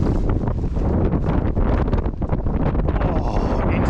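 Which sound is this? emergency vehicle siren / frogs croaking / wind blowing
wind blowing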